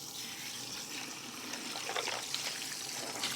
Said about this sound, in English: you want to squeeze until that water runs clear